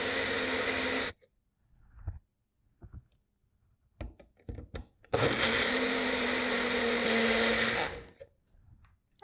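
A Magic Bullet blender whirs through crepe batter in two loud bursts, a high motor whine that cuts off abruptly, with clattering handling noises in the pause between.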